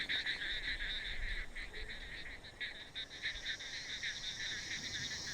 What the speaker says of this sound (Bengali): ব্যাঙ আর ঝিঁঝির সমবেত কণ্ঠস্বরে রাত মুখর হয়ে উঠেছে।